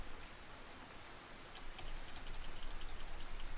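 Rain falls steadily in the Russian Fishing 4 video game, a soft wash of hiss with scattered drop ticks that builds slightly louder toward the end, with no voices.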